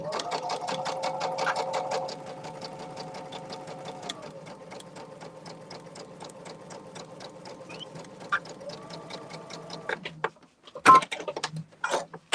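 A sewing machine stitches quilt blocks in a fast, even run of needle strokes that holds for about ten seconds, then stops, followed by a few handling clicks and rustles.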